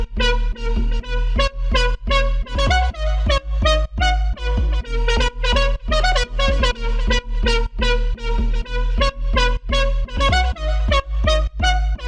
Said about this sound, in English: In combination with the leads it sounds like this.